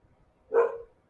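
A single short dog bark sounds in the distance, brief and moderately loud against an otherwise quiet background.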